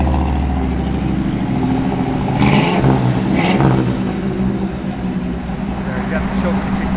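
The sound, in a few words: 1961 Chevrolet Impala SS engine running, choke kicking down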